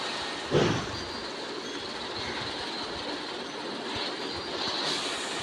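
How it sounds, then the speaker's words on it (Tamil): A train in Train Simulator Pro USA rolls steadily along with a constant rumbling rush and a thin high whine, a brief louder burst near the start. "இப்போ தான் ட்ரெயின் போகுது."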